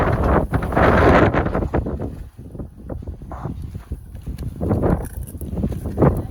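Wind gusts across an outdoor spot where horses are kept for hoof trimming, blowing as a loud broadband rush that swells and fades in bursts, with scattered knocks and clatter close by.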